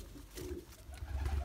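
A pet pigeon coos softly and steadily at close range, with low, rounded calls and no voices over them.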